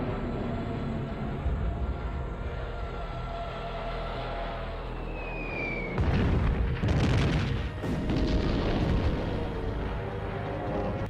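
Bombs and artillery shells bursting over Warsaw in Second World War footage, heard as a steady low rumble that turns into a denser, louder run of booms and blasts partway through, with no voices.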